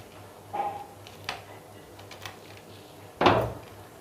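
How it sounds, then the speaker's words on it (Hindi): A crispy fried bread roll is torn open by hand: a few soft crackles, then one sharp, louder crunching snap near the end, heard close and alone against a quiet hum. "अंदर से भी मैं आपको तोड़ के दिखा देती हूँ ये कितना क्रिस्पी बना है"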